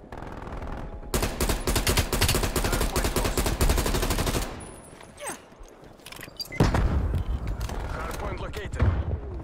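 XM4 assault rifle fire in Call of Duty: Black Ops Cold War, Season 3 Reloaded. A long, loud automatic burst is followed by a lull with scattered shots, then more rapid fire.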